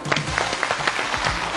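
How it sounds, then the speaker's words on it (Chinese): A television studio audience at a Beijing TV dating show breaks into applause, a short, even burst of clapping with some voice underneath. "掌声有请1号男嘉宾"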